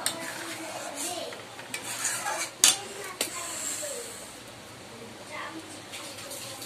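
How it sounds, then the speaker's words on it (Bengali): A pot of freshly tempered dal is lifted off a home stove: a couple of sharp metallic clanks and scrapes rise over a low simmering hiss, with someone talking nearby. "এবার ডালটা নামিয়ে নেবো"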